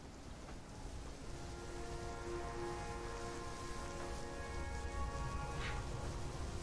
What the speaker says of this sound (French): Oh, sérieusement, il pleut encore?